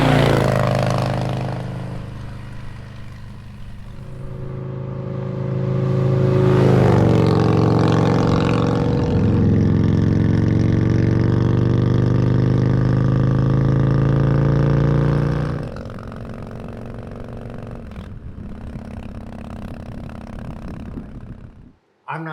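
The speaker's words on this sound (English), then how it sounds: "And now here's a listen to it on a drive-by." A Harley-Davidson with a TAB Performance exhaust passes by, its engine note swelling louder as it nears, holding a strong rumble, then dropping away as it moves off.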